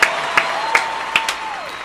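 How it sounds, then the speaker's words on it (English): Short round of applause from a small group, a few sharp scattered claps over a soft background tone, fading toward the end. "A round of applause."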